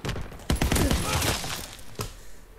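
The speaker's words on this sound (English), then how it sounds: "I started shooting him first" Call of Duty WWII gameplay brings dense gunfire in quick bursts, loud and close, with a sharp crack near the end.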